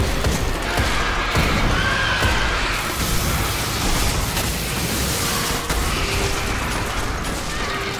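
A loud, dense grenade blast in Destiny: The Taken King on PS4 rumbles through the whole clip, with booming low end and crackling bursts layered over constant chaotic game noise.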